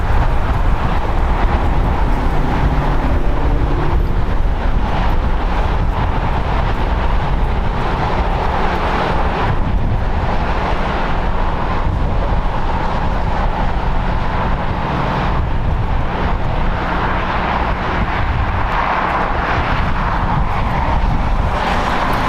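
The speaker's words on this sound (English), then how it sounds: "That was Breeze Airways Flight 543 going to LAX barely" A Breeze Airways jet passes near LAX airport on the coast, a loud, steady broadband engine roar that swells and holds for over twenty seconds with no talk over it.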